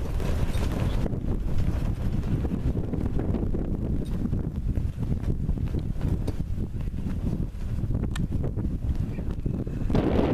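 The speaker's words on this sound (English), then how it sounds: "It has to be blowing, I'd say 20-30 mile an hour winds." Strong wind of about 20-30 mph on open Wyoming antelope country roars and buffets the microphone in a continuous, loud rumble that surges in gusts throughout, with no talking.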